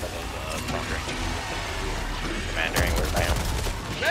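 Gunfire and explosive combat from the video game Helldivers 2: a dense, continuous rumble of shots and blasts, swelling louder in the last second and a half, with voices talking over it.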